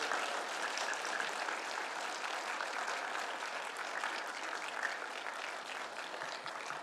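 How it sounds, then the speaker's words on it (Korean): A church congregation applauds warmly for a newly welcomed deacon at a prayer forum, steady dense clapping from many hands filling the room without pause. "박병규 안수집사님 나오실 때 뜨겁게 박수로 축복."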